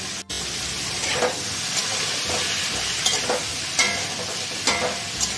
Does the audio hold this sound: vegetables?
yes